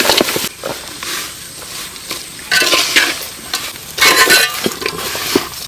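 Jaggery melts in hot ghee while a spoon stirs and scrapes the pan, giving a loud, irregular run of sizzling and metallic clatter with no talking.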